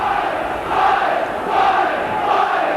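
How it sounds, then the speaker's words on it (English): A large Warrington rugby league crowd during a match against Leeds, a loud, sustained roar of cheering and chanting swelling and dipping in waves. "The Warrington crowd getting behind their team."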